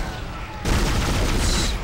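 Dense, loud weapon fire from the player's gun in the survival horror game Dead Space, a sudden harsh crackling burst that kicks in after a low rumbling lead-in and holds steady.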